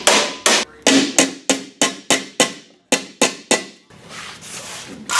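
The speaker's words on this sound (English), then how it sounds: "find something the shape of this frame so I can hammer this" Hammer blows shaping sheet metal over a Moto Guzzi motorcycle frame during a custom build, around a dozen sharp, loud, close strikes in a quick uneven rhythm with short pauses between bursts.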